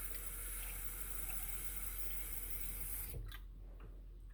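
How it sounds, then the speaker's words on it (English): Tap water runs in a steady, quiet stream into a tiny homemade sensory bottle for about three seconds, then cuts off abruptly, leaving a few faint drips and handling sounds. "I'm going to fill it up with some water"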